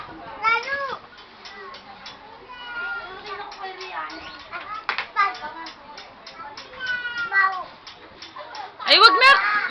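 A house cat meows repeatedly in high, bending calls throughout, mixed with a child's chatter and an adult voice talking nearby, with a louder cry near the end.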